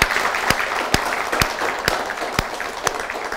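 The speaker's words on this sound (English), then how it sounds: "Can we clap for her dad first?" Studio audience on a TV talk show applauding a guest's father, a dense steady patter of many hands with a few sharp, louder claps standing out at a regular beat.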